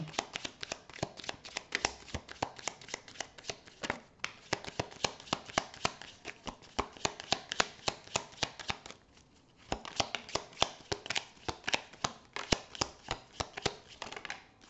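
Tarot cards shuffled by hand for a reading, a dense run of crisp riffling flicks and taps, close and clear, with one short pause midway and no talk.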